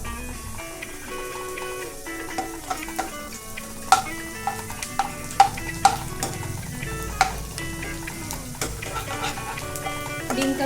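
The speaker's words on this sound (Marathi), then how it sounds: "थोडा थोडा डिंक घालून त्याला आपण छान तळून घेणार आहे" Pieces of edible gum frying in hot ghee in a kadai make a steady close sizzle and bubble, with scattered sharp pops and clinks of stirring throughout, no voices.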